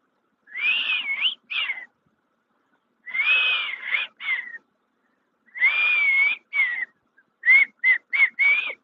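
A man whistles in imitation of bird calls, giving three long warbling phrases separated by pauses, each trailed by shorter notes, then ending in a quick run of four or five clipped chirps, close and clear with no talking.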